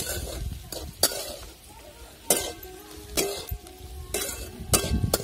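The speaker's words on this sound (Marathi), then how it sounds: "तर ते टाकून द्यायचं आपल्याला त्याच्यामध्ये आणि चांगलं परतून द्यायचं" Bitter gourd being sautéed with a spice mixture in oil, with a spoon scraping and clinking against the pan in irregular strokes over a soft sizzle, close by, and a faint voice now and then.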